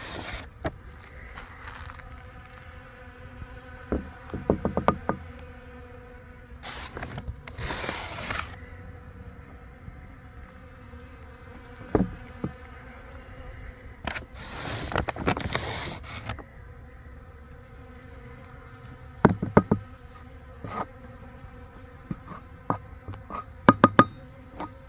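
Honeybees forage at a tray of pollen substitute on an early spring day, making a quiet, intermittent buzz with several louder passes as bees fly close by.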